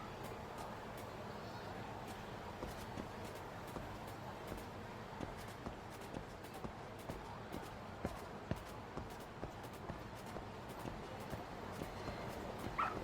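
A dog in the video game Lost Judgment barks, yips and whimpers in short bursts over a steady bed of game ambience and music, with quick footstep-like patter running through the scene.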